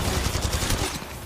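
Rapid automatic gunfire in the mobile battle royale game Apex Legends Mobile, a dense burst of shots for about a second and then a fading tail, loud and with no voices.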